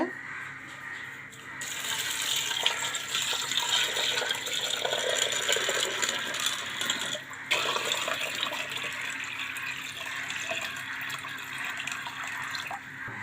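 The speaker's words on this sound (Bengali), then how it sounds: "এখন এর মধ্যে পানি দিয়ে দিবি।" Water pouring steadily into a fish tank with stones already in the bottom, a continuous close splashing rush that briefly dips and resumes, no voices.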